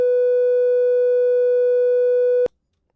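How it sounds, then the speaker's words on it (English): A basic sine wave synth patch in FL Studio plays one steady, pure, piercing tone for about two and a half seconds, then cuts off abruptly into silence. "It's just a basic sine wave."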